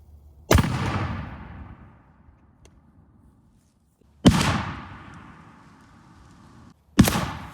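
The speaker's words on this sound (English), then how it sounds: "we're gonna put another 10-ounce cannonball in our cannon just for the sake of doing it for fun" A cannon firing 10-ounce cannonballs outdoors gives three loud, sharp booms. Each boom is followed by a long, fading rumble, with quiet gaps between them.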